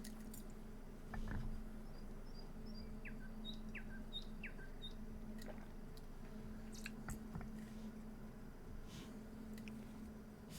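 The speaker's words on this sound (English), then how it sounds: "Bird noises." Small birds chirp in a few short, high, rising tweets over a quiet background hum, with soft crackling and rustling noises nearby.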